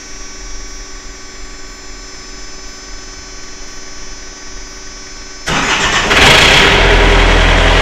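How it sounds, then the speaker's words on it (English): Diesel engine of a refrigerated trailer reefer unit cranks and fires up after a quiet hum, then settles into a loud, steady running rumble close by, with no talk. "which is right there, and next thing should be engine start."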